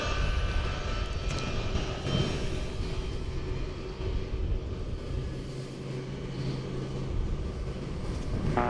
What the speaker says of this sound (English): This aircraft is, as Reggie intimated earlier, a Boeing 757.